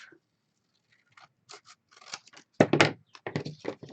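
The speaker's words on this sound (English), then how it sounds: "Then I'm going to cut that in half" Scissors snipping through paper while crafting a corner bookmark, a few faint clicks giving way to a cluster of louder, close crisp cuts in quick succession.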